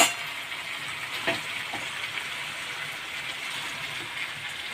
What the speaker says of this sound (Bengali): এবার আমি দিচ্ছি মাংসগুলো দিয়ে আমি আবার ভালো করে কষিয়ে নেব।